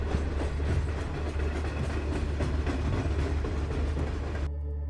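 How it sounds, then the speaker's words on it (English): A train runs through a deep underground railway tunnel, giving a loud, steady rumble with rhythmic rail clatter that cuts off abruptly near the end. "Wait, how could a train possibly run this deep?"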